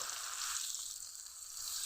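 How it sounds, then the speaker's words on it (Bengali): Chopped onion and sliced dried chili fry in hot oil, giving a soft, even sizzle that runs steadily through the short moment without pause. "তেল গরম হয়ে গেছে, তেলের মধ্যে দিব কিছুটা পেঁয়াজ কুচি।"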